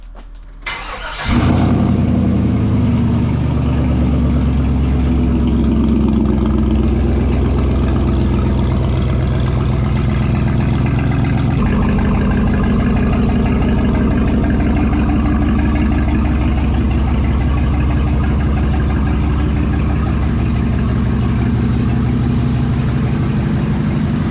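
A rat rod's engine cranks and roars to life through a homemade scrap-metal exhaust, then runs loud and rumbling with a heavy exhaust note, revving up midway and staying at a strong idle.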